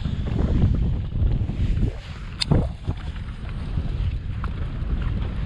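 Wind blows across Lake Gaston from a fishing boat in cold, muddy conditions, a steady low buffeting roar against the microphone with a brief clunk partway through.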